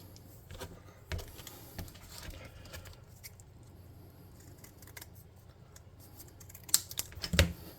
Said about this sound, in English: I'm going to cut a thin railing and just glue a ledge over that to hide that.